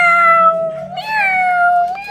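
A cat meows loudly and close up, giving two drawn-out, wavering meows back to back with no other sound around them.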